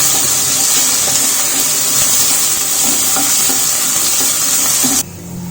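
Onions with ginger garlic paste frying in a pan, a loud continuous sizzle with soft stirring scrapes throughout, cutting off sharply near the end; no talking.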